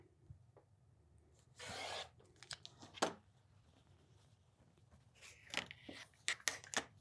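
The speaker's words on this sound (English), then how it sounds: "I'm going to cut this right here." Scissors or a rotary cutter slicing through quilting fabric for a pillow wrap, heard as a short rasping cut followed by a few sharp snips and rustles, close and fairly quiet with no talking.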